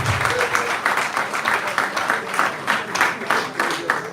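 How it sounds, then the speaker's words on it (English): An audience at an awards-eve gathering claps for a young man, a moderate, somewhat rhythmic patter of hands with pulsing bursts, carrying on steadily with faint background voices. "Please clap for him, clap for him."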